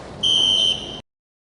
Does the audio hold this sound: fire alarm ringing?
yes